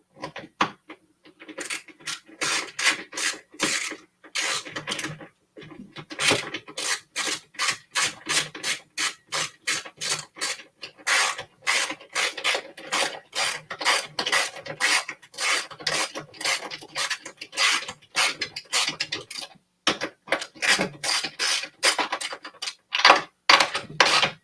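Bolts are ratcheted into a new Foo Fighters Premium Stern pinball machine, producing a long run of rapid, rhythmic rasping clicks close by, briefly pausing and resuming.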